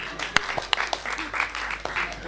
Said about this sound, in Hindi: जोरदार ताली बताओ कि सब निकल लेते हैं